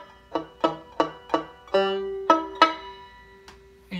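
A beginner strums banjo chords that come out muffled and buzzing, about eight separate plucked strums in an uneven rhythm, each decaying quickly, close and fairly loud with no talking.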